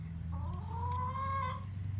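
A hen gives a drawn-out, wavering cluck-call in a backyard flock that is resting and dust-bathing, close and clear over a low steady hum.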